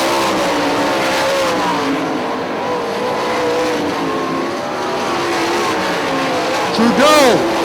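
Sprint cars race around Hartford Speedway Park in an IRA sprint car event, a steady layered engine roar under a commentator's talk, with a louder car sweeping past and a rising-falling whine near the end.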